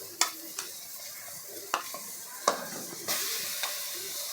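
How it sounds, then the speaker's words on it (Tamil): Ginger garlic paste sizzles and fries in a pan for mushroom curry, a steady close crackle punctuated by several sharp clinks and scrapes of stirring, with the sizzle swelling louder near the end. "இஞ்சி பூண்டு பேஸ்ட் போட்டு வதக்க போகிறோம்."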